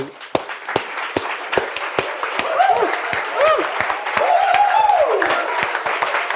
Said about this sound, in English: So now we can move on to having our round of applause.